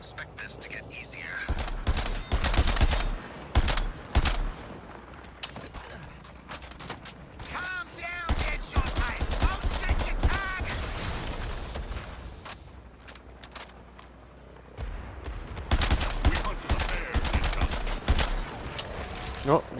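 Rapid gunfire in Suicide Squad: Kill the Justice League, dense bursts of shots and clattering mechanical impacts coming in clusters, broken by short lulls and a few tonal game effects.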